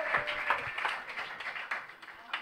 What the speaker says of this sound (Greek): Δυνατό χειροκρότημα!